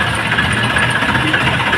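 Tractor engine running steadily while reversing near a fertilizer market yard, a loud, continuous, close rumble with a buzzy mechanical drone.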